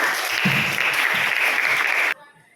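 A classroom of students applauding together, a dense, loud burst of clapping that holds steady for about two seconds and then stops abruptly.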